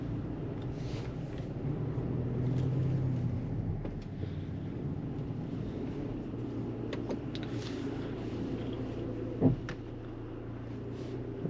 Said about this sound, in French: Et nous sommes partis pour l'essai routier du véhicule.